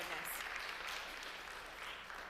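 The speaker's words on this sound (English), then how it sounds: "let's give a big round of applause to Anne and Mallory" An audience at the 10th Annual Women & MPN Conference gives sustained applause, a dense, even patter of many clapping hands that holds steady throughout.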